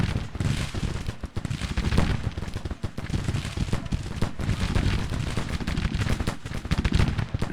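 Massed rifle gunfire from Civil War infantry brigades in the Grand Tactician: The Civil War video game, a dense, continuous crackle of overlapping shots with heavier booms mixed in, loud and unbroken throughout.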